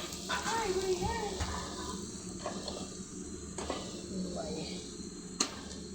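Chicken roast fries in a pan with onion and bay leaf, a steady low sizzle and crackle running throughout while a person talks over it.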